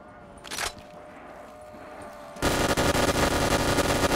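A G42 gun in Call of Duty custom zombies on Nacht Der Untoten firing a fast, sustained burst, a dense loud rattle of rapid shots that starts suddenly after a single short blast and quieter game ambience.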